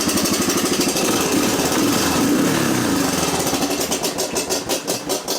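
A 1987 Honda TRX250 ATV engine runs loudly and steadily up close, with a throttle blip partway through and a pulsing, uneven rhythm toward the end.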